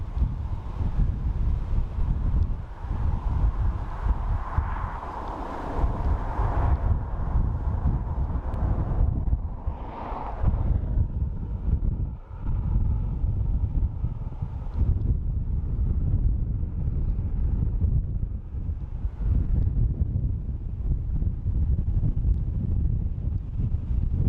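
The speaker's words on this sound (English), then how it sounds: "That wind is strong now." At Dublin Airport, strong wind batters the microphone with a loud, continuous low roar and gusty rumble for the whole stretch, and no one speaks.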